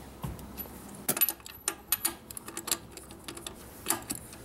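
A lug wrench is turned on the wheel nuts of a Suzuki Jimny during a winter-to-summer tyre change, producing a quiet run of close metallic clicks and ratcheting ticks.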